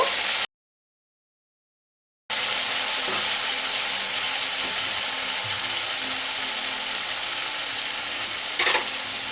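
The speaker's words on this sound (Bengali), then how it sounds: "আলুটা দিয়ে কষিয়ে নেব।" Potatoes fry with spices in a pan, giving a loud, continuous hiss of sizzling oil broken by a short gap, with faint stirring scrapes underneath.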